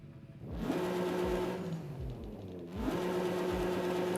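A Toyota Supra with a street exhaust, a 900 hp widebody drift build in the racing game Forza Horizon 5, revs repeatedly, its engine note climbing, dropping and climbing again, loud and close, with no voices.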